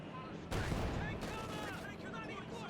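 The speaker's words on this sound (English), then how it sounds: "Keeps getting shot by the main gun, but the gunner on top is the main threat." A tank's main gun and top-mounted gunner fire at infantry in the battle game Company of Heroes 2, a loud, dense fusillade of bursts and booms rolling on almost without pause.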